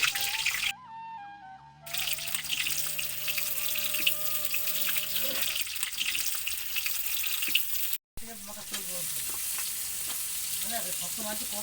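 A pot of mutton curry sizzles and bubbles over a wood-fired clay stove, a steady close frying hiss with some stirring and watery sounds, and someone speaks briefly.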